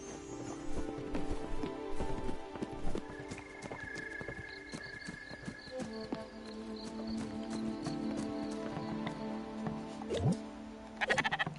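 Sheep in a video game bleat now and then over a busy backdrop of looping game music and hoof-like clip-clop steps, the calls moderately loud and mixed among other effects.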